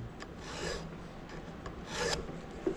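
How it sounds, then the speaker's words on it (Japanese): A flat file rasps across chainsaw teeth, evening their size, in short close strokes with brief pauses between, fairly quiet and without talk. "平やすりを使いまして、まずはザクザクと落としてしまいます。"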